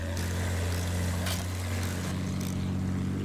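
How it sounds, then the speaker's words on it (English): A World War I-era plane's propeller engine drones steadily in Battlefield 1, a constant low hum with a faint whooshing pass partway through, heard alone. "Somebody really wants to take my plane down."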